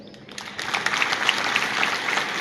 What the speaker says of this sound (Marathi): यानंतर विशेष टाळ्या वाजवा साऊंड सिस्टम वाल्यासाठी.